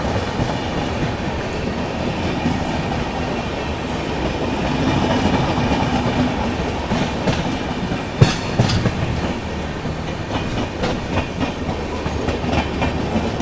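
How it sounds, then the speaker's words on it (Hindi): The Maharashtra Sampark Kranti Express, Bandra Terminus to Hazrat Nizamuddin, rumbles past loud and close, a continuous roar of wagons with rhythmic wheel clatter and a sharp clank partway through. "महाराष्ट्र संपर्क क्रांति एक्सप्रेस, इंडिया फास्टेस्ट संपर्क क्रांति, बांद्रा टर्मिनस हजरत निजामुद्दीन"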